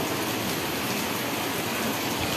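Heavy rain comes down on a rooftop terrace while the sun is still out, a continuous, close and even wash of falling water that holds steady throughout, with no talking.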